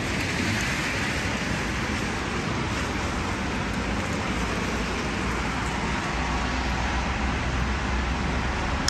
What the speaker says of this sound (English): Like why? Why is it raining?